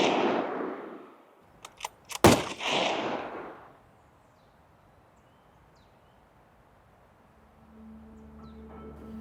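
A single rifle shot fired while hunting bear, a sharp loud crack with a short echoing tail, preceded by a couple of faint clicks and followed by near silence and a low hum.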